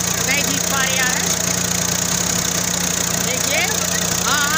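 Swaraj 744 XT and Sonalika DI 35 tractors locked in a tug of war give off a loud, steady engine drone, with voices from onlookers calling out over it throughout.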